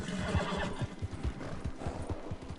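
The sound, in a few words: Arabian horse hooves and neigh in video game Red Dead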